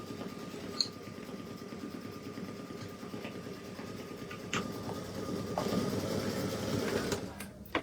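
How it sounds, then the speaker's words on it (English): Two embroidery machines, a Brother V5 and a Brother Luminaire, stitch together in a steady, continuous mechanical drone with a fast repetitive needle rhythm, growing slightly louder toward the end, with no voices. "both machines are stitching along now"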